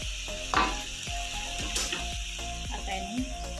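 Tofu frying in a pan with oil, a continuous close sizzle punctuated by regular clicking and scraping knocks, loud and steady with no talking.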